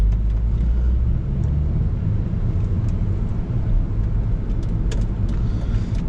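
A 2000s Volvo V70 sits running during a handbrake test, giving off a steady, loud, low engine rumble throughout with faint small clicks on top and no speech.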